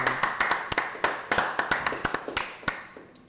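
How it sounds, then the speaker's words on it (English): A small group claps for a few seconds, with uneven sharp hand claps at close range. "Let's go ahead and clap it up"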